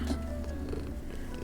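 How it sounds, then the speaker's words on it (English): Cat purring close up, a soft steady low rumble that continues quietly through the short moment with no other sound. "All the beautiful kitty interruptions, huh?"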